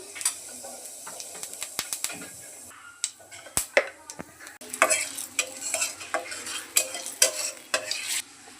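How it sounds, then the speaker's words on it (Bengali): Cumin seeds crackle and spit in hot oil in a wok, with sharp, irregular pops that grow denser and busier toward the end, close and fairly loud, and no talk. "কড়াইতে তেল দিয়ে দিচ্ছি, তেল গরম হয়ে গেছে, এখন দিয়ে দেবো জিরে ফোড়ন"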